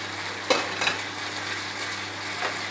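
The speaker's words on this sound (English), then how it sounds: "So now I put my veggie around couple minutes. I'm going to put all my veggie here" Vegetables being stir-fried in a pot for Chinese fried noodles, a steady low sizzle with a few louder stirring scrapes, close and alone with no talk.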